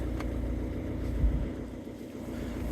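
A Ford Fiesta Mk5-Mk6 engine idling steadily, a low continuous rumble with a faint brief thump partway through and no talk.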